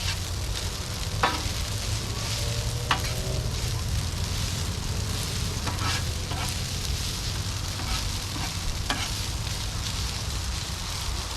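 Shrimp fettuccine sizzles and fries in oil on a Blackstone griddle, a continuous loud crackle broken by occasional scraping clicks of a utensil stirring the food, with no voices.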